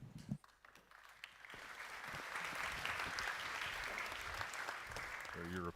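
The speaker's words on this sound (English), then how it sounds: "European clap, golf clap." Audience applause at the Brussels Forum 2025 policy conference, a polite golf clap that starts with a few scattered claps, swells into steady, even clapping from a seated crowd and holds until a voice starts at the end.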